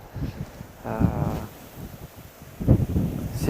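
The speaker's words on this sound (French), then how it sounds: "Il y a du vent, hein, c'est bien." Gusty wind buffeting outdoors in low rumbling bursts, with brief rustling surges and faint background murmur.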